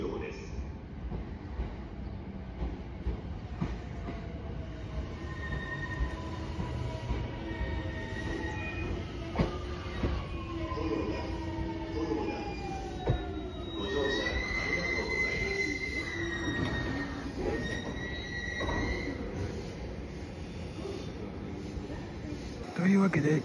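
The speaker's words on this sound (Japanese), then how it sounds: "The rapid train bound for Tokyo will soon arrive on track number 4." A JR East Chuo Rapid Line series 209-1000 commuter train rolls into the platform with rumbling wheels and rising, squealing Mitsubishi GTO motor tones, steady noise throughout, while a voice talks over it.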